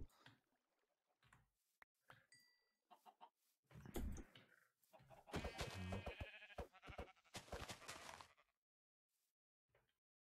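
Sheep bleat in the video game Minecraft, a few short broken cries and then a louder burst of bleating in the middle, set against quiet gaps.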